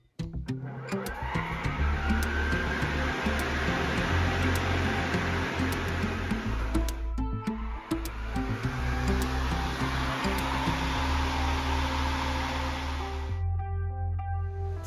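A Greenworks 25-inch electric lawn mower runs with a steady whirring motor hum and blade whoosh, close and constant for most of the span, briefly dipping once before the motor winds down near the end.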